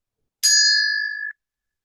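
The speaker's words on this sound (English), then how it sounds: "So I'm going to ring the bell" A classic bell struck once, giving a clear bright ding that rings on with a sustained pure tone and fades after about a second, alone in silence.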